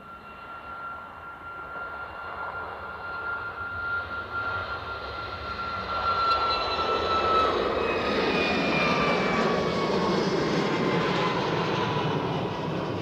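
An airplane departs at Edinburgh airport, its jet engines building into a loud, sustained roar with a high whining tone that slowly slides downward as the aircraft passes.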